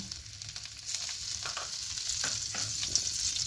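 Butter sizzling as it hits hot white oil in a kadai, a steady close frying hiss with small crackles and stirring ticks, no talking.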